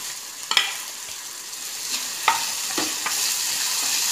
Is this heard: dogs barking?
no